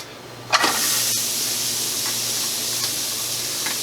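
A hot skillet sizzles and hisses steadily after something hits the pan with a sharp burst, forming a loud, close, continuous frying hiss with no talking.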